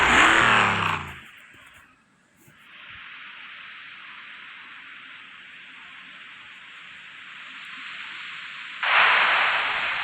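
A car engine in the racing game BB Racing 2 drones steadily with a bright, buzzy tone, rising into a louder rev near the end, with no talking.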